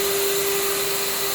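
A Ryobi 18V ONE+ 3 gallon wet dry vac running as a blower gives a steady, loud motor whine with a strong constant tone and rushing air, unbroken for the whole moment.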